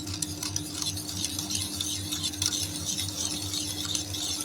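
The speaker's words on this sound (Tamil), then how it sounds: "நல்லா கட்டி இல்லாமல் கலந்துங்க இதுமாரி விஸ்கி வச்சு" A whisk stirring a coconut ice cream mixture with sugar in a bowl, fast steady clinking and scraping strokes, close and continuous with no talking.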